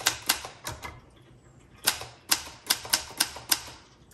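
Keys of a 1966 Olympia SF travel typewriter strike in short irregular bursts, about ten crisp clacks with a pause in the middle, close and clear with no talking.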